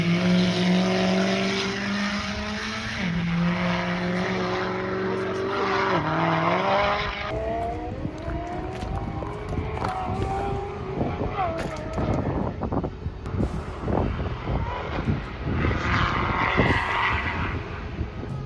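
A V8 engine revs hard at close range beside a karting track, rising and falling through repeated throttle blips with a rough, steady roar, while people talk excitedly over it.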